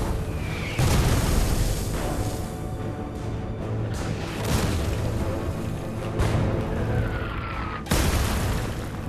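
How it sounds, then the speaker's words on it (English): A German artillery barrage in a wartime documentary: repeated heavy explosions boom every couple of seconds over a continuous rumbling din, loud and close with some distant blasts in between. "The Reginas can only take cover and wait for the German barrage to ease."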